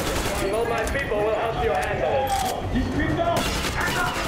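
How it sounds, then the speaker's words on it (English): Gunfire in the video game Metro Exodus, a dense, continuous barrage of shots and battle noise filling the whole stretch at steady loudness, with a voice faintly in the mix. "Okay, guess I gotta go shoot him up, though."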